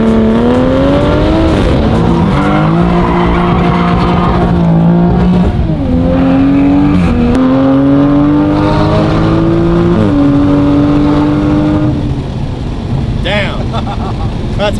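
A 2020 Toyota Supra fitted with a new aftermarket exhaust accelerates hard, its engine note climbing through repeated rising sweeps between gear shifts, loud and close from inside the car, with occasional voices underneath.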